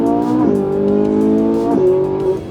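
A Ferrari 458 Italia V8 engine revs hard, rising in pitch, dipping briefly and climbing again, loud and close with no talk.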